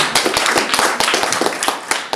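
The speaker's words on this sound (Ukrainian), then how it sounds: "Плескайте долоні, поети це люблять." An audience at a poetry battle event claps hands, loud close rhythmic claps with distinct individual hits blending into brief applause, no voices over it.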